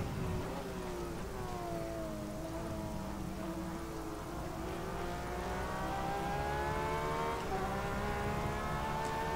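In the racing video game rFactor 2, steady rain hisses over a droning GTE race car engine at Road America that slowly rises in pitch, a continuous wash of noise with no voices.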